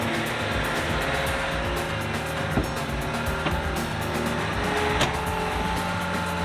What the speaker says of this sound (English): the skid steer operator had to work a pretty good while to scrape the soil and the roots on all sides around the stump